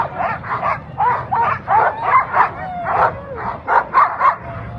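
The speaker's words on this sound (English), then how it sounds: "Again, there's your wheel dogs here." Sled dogs at the start of a sled dog race on 4th Avenue in Anchorage, Alaska, bark and yip excitedly in rapid repeated bursts close by, with whining cries mixed in.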